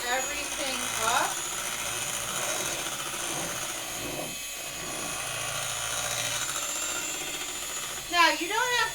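An electric cake mixer running on its lowest speed while mixing a boxed strawberry cake batter, a steady mechanical whir with a ratcheting edge that continues throughout while a voice talks over it.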